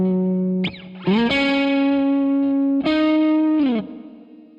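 Electric guitar with the noise gate switched off, played by Solar Winter 1.6, with sustained distorted notes and bends sliding between pitches, held loud and close, trailing into a hissy, noisy tail.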